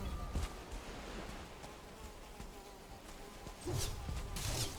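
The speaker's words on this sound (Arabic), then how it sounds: "ده انا في ناموسة ضربتني اصلا 25 او 30 ناموسة؟" Swarming mosquitoes buzz continuously in the swamp of the video game Valheim, a steady insect whine that swells louder near the end with a few sharper hits mixed in.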